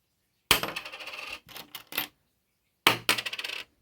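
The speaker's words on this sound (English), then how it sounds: "Now listen to a zinc penny drop." A zinc penny hits the floor twice, each drop giving a dull clatter and a short bounce-rattle that dies quickly without a lasting ring, close and alone in a quiet room.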